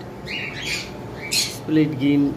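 Lovebirds squawking in short, harsh bursts close by, several calls within a couple of seconds, under a voice.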